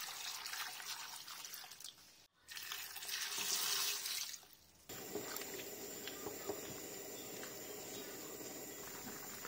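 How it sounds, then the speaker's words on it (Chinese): Water is poured into a pot holding hawthorn berries, a soft steady splashing and trickling with a brief pause partway before the stream resumes at an even level. "然后把山楂倒入锅中，加入1碗半清水煮开"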